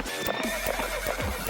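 A spooked horse pulling a buggy whinnies loudly and close while its hooves clip-clop in a steady rapid rhythm on pavement.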